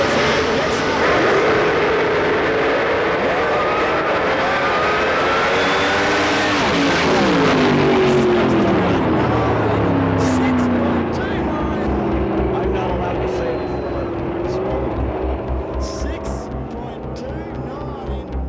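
A 1957 Chevrolet drag car makes a 225 mph run on a drag strip, its engine roaring loud then sweeping down in pitch as it passes and fades, with a commentator talking over it.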